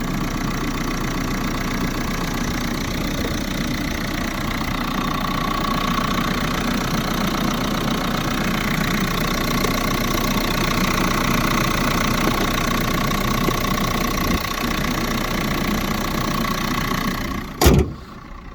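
A 2017 Renault Megane 4 with a 1.5 K9K diesel idles steadily with a low, rough mechanical rumble, constant throughout, ending with a sharp click or thump near the end.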